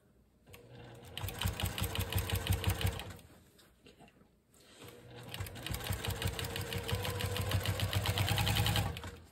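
Close sewing machine stitching binding onto a quilt, running in two steady buzzing bursts of rapid needle strokes separated by a brief pause, each ramping up and slowing down.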